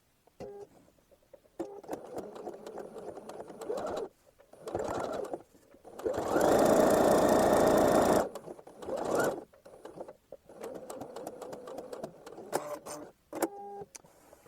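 A sewing machine stitches a pocket down in several bursts of rapid whirring, with one longer, louder run in the middle and short gaps of quiet between.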